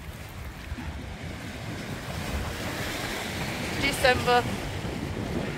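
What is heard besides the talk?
waves on Lake Ontario beach in wind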